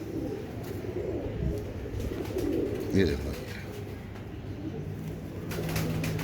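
Close, throaty cooing from Chaudry Sahab breed Teddy pigeons, an old breed, rolls on steadily while someone speaks briefly over the birds.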